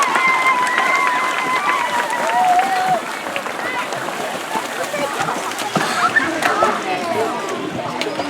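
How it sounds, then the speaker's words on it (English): At a swim team's end-of-year party, the audience applauds graduating members with loud, sustained clapping under chatter and a few whistles that fades as talk resumes. "So let's give them a round of applause."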